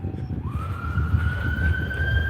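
A police car siren wails along a city street, a steady high rising tone that holds loud and close against a low rumble of traffic, with no one talking.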